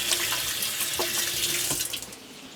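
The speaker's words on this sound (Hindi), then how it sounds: "हाथ धो लेते हैं।" Hands being washed under a running kitchen tap: a steady close rush of water with splashing changes as the hands move, easing off near the end.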